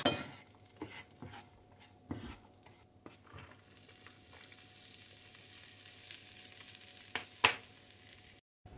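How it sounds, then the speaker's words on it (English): Roasted butternut squash seeds drop into a pan of sizzling sauce, giving a steady frying hiss with scattered clinks and scrapes of utensils against the pot, fairly close and moderate in level. "So they're just going to go in and hopefully soften down a little bit in the sauce"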